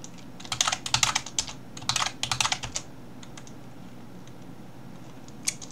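A password typed on a computer keyboard: two quick clusters of close, crisp key clicks, followed by a few scattered single taps amid quiet room noise, with no talking.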